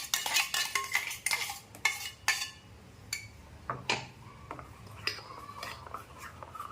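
Ground barnyard millet batter is stirred in a bowl, with a spoon clinking and scraping against the sides in quick irregular taps. The taps are loud at first and then thin out into softer intermittent scrapes, close by, with no talking.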